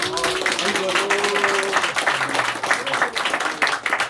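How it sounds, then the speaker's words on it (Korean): Congregation at an Easter Sunday church service applauds in a lively burst of clapping, mixed with voices and sustained tones that carry across the room throughout. "우리 박수 한번 치겠습니다"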